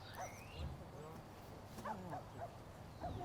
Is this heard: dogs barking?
yes